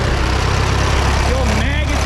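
A rare old Twin City tractor engine running without coolant, a loud, close, steady low chugging rumble with someone speaking briefly over it.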